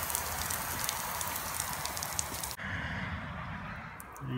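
Steady rushing hiss of water running from a hose into an electronic water level, close and continuous, briefly cutting off then resuming more quietly near the end.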